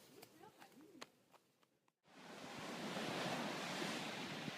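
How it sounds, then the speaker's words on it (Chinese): Sea waves roll in along the seaside promenade in Nice, a steady broad wash of surf with wind buffeting the microphone. A few soft, unclear vocal sounds come before it, and then the surf takes over. "这就是海边散步大道"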